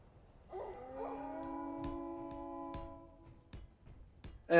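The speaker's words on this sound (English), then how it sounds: "as you guys can probably hear, the puppies have returned" Wild puppies in the video game Surviving Earth howl in a long, wavering chorus, with a few fainter yips and whimpers trailing off over quiet game ambience and a sharp noise at the very end.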